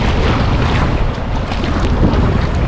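A stalled fishing boat being towed at sea gives a constant, loud low rumble of engine and water rush, mixed with wind noise hitting the microphone, steady for the whole few seconds.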